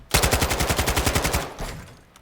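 In Warzone 2, a sustained rapid-fire burst from an automatic gun shooting through a door rattles on for about a second and a half, loud and near, then fades into a short echoing tail.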